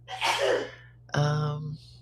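A single sharp sneeze bursts out, followed by a short voiced exclamation; a low steady hum runs underneath.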